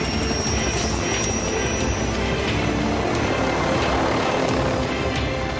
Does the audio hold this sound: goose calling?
no